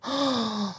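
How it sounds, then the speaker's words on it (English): A single drawn-out vocal gasp, loud and close, with a slightly falling pitch before it trails off. "Not the gasp, bro."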